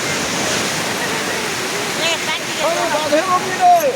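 Loud, continuous rushing water from a nearby waterfall or stream fills the scene, a close and unbroken roar with people talking over it.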